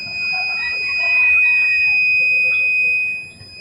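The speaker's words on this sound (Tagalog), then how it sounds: "So dapat may buzzer tayo ha na maririnig." A continuity tester's steady, high-pitched electronic buzzer tone sounds continuously and evenly while checking an inverter air conditioner's wiring, with faint background murmur underneath, then cuts off near the end.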